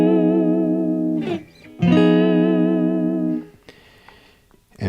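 An electric guitar chord played with whammy bar action rings out twice with wavering, bending pitch, each sustained strum dipping and then decaying into quiet string noise, close and without speech.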